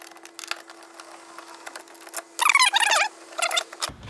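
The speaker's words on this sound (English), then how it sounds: "take out these screws that hold this grab handle on" Screws being backed out of a Ford Bronco grab handle, a run of quiet clicks and ratcheting ticks followed by a denser squeaky burst of driver and screw noise, close and unaccompanied by talk.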